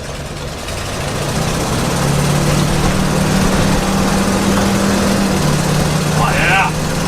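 A steady, rumbling engine idles nearby with a low exhaust drone, continuous and fairly loud throughout.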